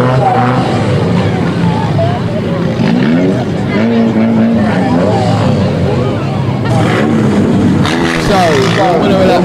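Front-wheel-drive dirt rod stock cars in a banger race at Stansted Raceway, engines roaring loud and continuous with revving pitch swings, while a public-address announcer talks over the noise throughout.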